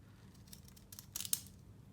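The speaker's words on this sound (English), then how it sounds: "Actually, let's use my deckling scissors." Deckle-edge craft scissors snipping washi tape, a few quick, faint crisp cuts clustered near the end in an otherwise quiet room.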